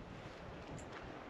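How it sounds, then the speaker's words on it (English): Strong wind gusts rushing through trees on an exposed mountainside camp, a steady broadband roar buffeting the microphone with no voices. "Can you hear the wind?"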